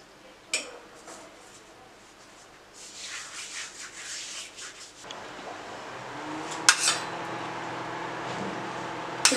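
Maida flour being rubbed together with oil and ghee by hand, a soft dry scraping and rustling that swells in the middle and picks up again later, with a few light taps against the bowl. No voices.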